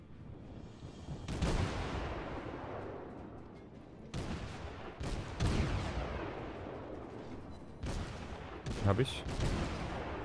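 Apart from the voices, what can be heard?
rapid-firing naval cannons in World of Warships video game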